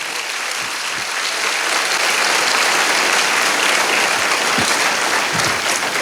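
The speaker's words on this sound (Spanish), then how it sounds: "Dele un fuerte aplauso al Señor por eso." Church congregation applauding loudly and steadily for about six seconds, a dense wash of clapping with no talk over it.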